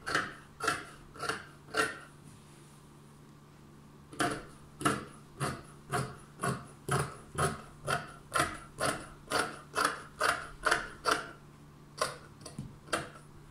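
Fabric scissors snip through skirt material in a steady run of about twenty crisp, evenly spaced cuts. There is a brief pause after the first few snips, and no one speaks.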